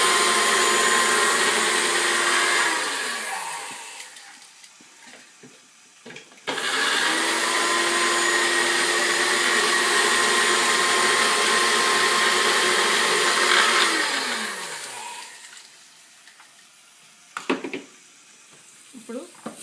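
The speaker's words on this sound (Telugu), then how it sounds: "ఇప్పుడు దీన్ని ధనాల పొడి అన్ని మిక్సీ వేసేసేయాలి" A kitchen mixer grinder whirs loudly while grinding spices for a fish curry, running in two long bursts that each wind down, with a short pause between them and brief clatter and talk afterward.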